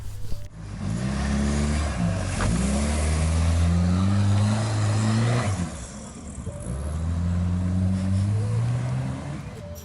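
A 1988 Ford Merkur, the US version of the Ford Sierra, drives past nearby with its engine revving up through several rising gear pulls, easing off around the middle, then pulling again.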